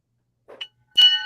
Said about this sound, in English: Can y'all hear the bell?